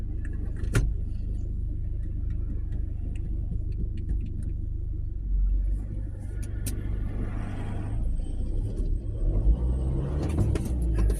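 A car engine rumbles steadily with a deep low drone as the driver lifts off the accelerator and the revs fall away, the vehicle said to jump out of gear as the revs drop; no voices.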